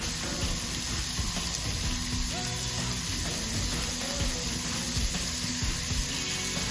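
Bacon covering a Monument Grills griddle fries with a steady, even sizzle and crackle, with a few faint clinks and no talking.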